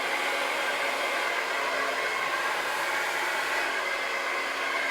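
A hair dryer blows steadily with a constant broadband whoosh, loud and close, without pause.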